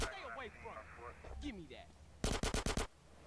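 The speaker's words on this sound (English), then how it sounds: "This minigun." A minigun in GTA San Andreas fires a short, loud burst of about six rapid shots near the end, following a stretch of talking.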